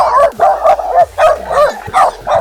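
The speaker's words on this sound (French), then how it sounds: "les chiens qui t'aboient dessus comme ça" A dog barks repeatedly at a passer-by during a hike through marshland, with a series of sharp, close, loud yapping barks in quick rhythm and brief gaps between them.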